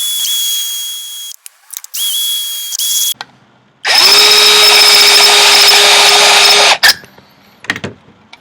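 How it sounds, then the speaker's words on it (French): Loud, close power drill boring with an 8 mm bit outdoors, short whining bursts that start and stop, then one long steady high-pitched run of about three seconds, followed by a few brief clicks and knocks. "Je prends le forêt de 8."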